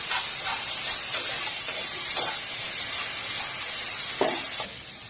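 Chopped onion and coriander fry in a pan for an egg and potato bhurji, giving a steady, close hiss and sizzle with repeated scraping stirs of a spatula and no voices.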